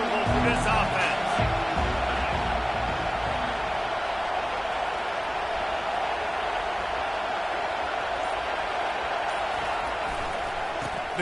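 Steady roar of a large stadium crowd at a Tulane vs Alabama college football game, a dense continuous wash of noise with a few sharper bursts early on, under a play-by-play announcer talking throughout.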